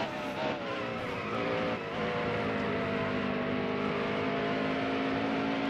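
A stock car engine in NASCAR Heat Evolution, racing at Richmond with a steady, loud in-car drone that climbs gradually in pitch. Brief tire squeal and nearby cars pass early on.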